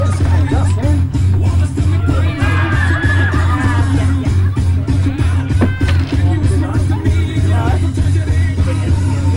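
A crowd at a bungy jump bridge cheers, whoops and yells in a loud, continuous babble of many voices, close and energetic, with individual shouts rising above the hubbub.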